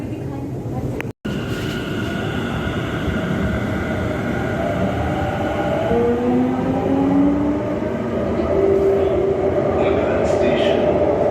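Delhi Metro Magenta Line train running between stations, a steady loud rumble and rail roar inside the carriage with rising whining tones from the motors, continuous throughout.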